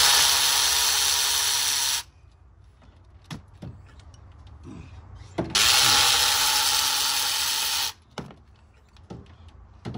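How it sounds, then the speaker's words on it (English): Ratchet wrench with a spark plug socket extension working loose the worn Denso iridium plugs on a 2003–2016 Honda CR-V with over 100,000 miles; two long, loud bursts of rapid clicking separated by quieter handling clatter. "Pull your spark plug out. You'll need a spark plug socket extension"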